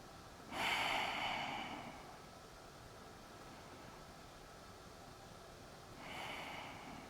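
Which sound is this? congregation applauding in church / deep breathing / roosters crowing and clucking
deep breathing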